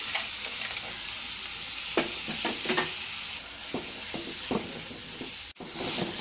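Radish chutney ingredients sautéing in a pan, a steady close sizzle with repeated scraping stirs and brief spoon knocks throughout, no talking.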